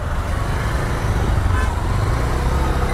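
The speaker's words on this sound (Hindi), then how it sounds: "रेड लाइट पे ट्रैफिक भाई" Road traffic idles at a red light in the street, a dense, loud low rumble of engines that stays constant throughout, with horns mixed into the din.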